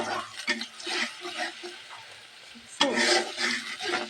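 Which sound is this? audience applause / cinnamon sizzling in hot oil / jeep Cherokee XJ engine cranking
cinnamon sizzling in hot oil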